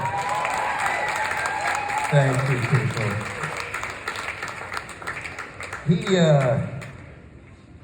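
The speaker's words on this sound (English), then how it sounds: "Oh, you can applaud." Audience applause rises through a comedy show crowd, a loose wash of clapping heard beneath a comedian's amplified talk, swelling twice before fading out.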